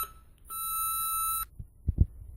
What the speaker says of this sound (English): on the handle itself, we see the light come on and we hear the gauge alarm